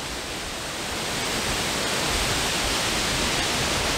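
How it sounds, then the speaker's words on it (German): Strong wind rushes through tree crowns near Bad Schönfließ, a dense, steady roar that swells slightly and holds at full strength with no voices. "Der Wind rauscht mächtig in den Kronen."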